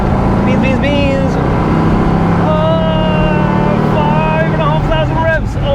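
A Porsche 912 engine roars loudly and steadily, its pitch climbing as it revs hard to 5,500 rpm, with wind noise throughout.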